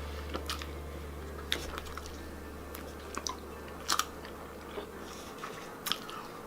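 Someone chewing a giant gummy worm dirt dessert up close, with scattered soft squishy bites and crunches over a steady low room hum, no talking.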